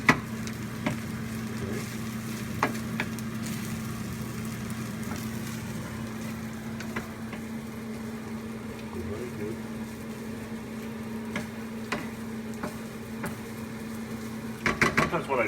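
Leftover steamed rice frying in a pan, a soft steady sizzle under a constant low hum, with occasional light clicks and scrapes near the end.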